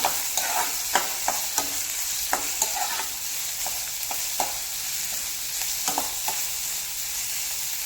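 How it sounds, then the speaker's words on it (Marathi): Onion frying over a high flame in a pan for liver fry, with a steady close sizzle and regular sharp clicks of a spatula stirring and scraping, no voices. "हाय फ्लेमवरती कांदा इथे आपल्याला भाजून घ्यायचा आहे"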